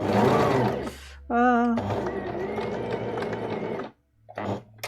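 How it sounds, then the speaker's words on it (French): A sewing machine stitches an Orchidée dress from Deer and Doe in short whirring runs, with a steady motor hum and brief pauses between runs, while someone talks over it. "Alors je couds la robe orchidée de Direndo."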